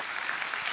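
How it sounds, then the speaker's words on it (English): Steady applause fills the room from a crowd at a political party leadership debate, a dense even wash of clapping with no break. "You got to let them applaud that, Tom."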